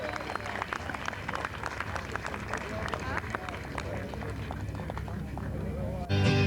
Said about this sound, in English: All God's critters, give yourselves a round of applause.